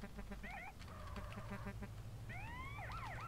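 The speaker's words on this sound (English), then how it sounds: "Trying to turn the siren on." A police siren in the video game GTA Underground, using the San Andreas siren, wails up and down in short bursts over a low steady hum, sounding synthetic and moderately close.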